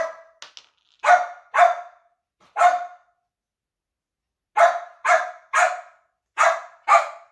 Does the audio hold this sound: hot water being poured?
no